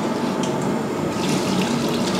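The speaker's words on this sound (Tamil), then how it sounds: "நான் இந்த பாத்திரத்தில் தான் அரிசி எடுத்து அதில் தான் இப்போ தண்ணி சேர்த்துக்க போகிறேன்." Water pours steadily from a tap into a cooking pot holding rice for a large-batch chicken biryani, a continuous close splashing and filling sound that grows slightly fuller as the pot fills.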